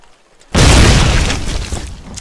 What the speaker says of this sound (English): they got a mortar up somewhere